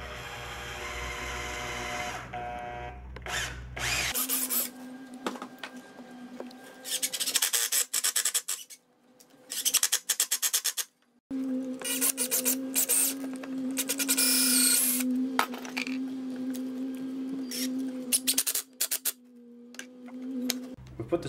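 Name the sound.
power drill driving screws into timber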